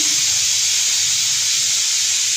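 A pressure cooker of dal on a stovetop hisses steadily, a loud unbroken jet of steam holding at one level throughout, with no talk.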